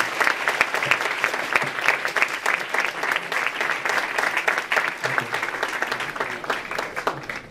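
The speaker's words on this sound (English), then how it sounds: "I'd like us to give him a special round of applause." Audience clapping steadily for an honoree at a research day gathering, a dense sustained round of applause that holds for several seconds before tapering slightly.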